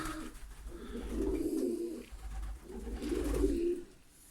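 Pigeons in a breeding loft nest coo softly in two low, rolling bouts, close by with faint background hiss and no talk.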